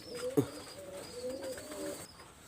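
Imported-blood flying pigeons kept as breeding pairs give a short, soft coo with a faint bird chirp, heard close against a quiet background.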